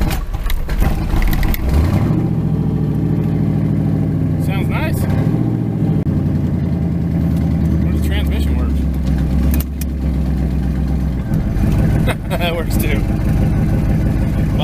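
A C4 Corvette with a newly replaced fuel pump cranks, catches and runs, a loud, close engine rumble that revs up and settles over several seconds, with someone talking over it.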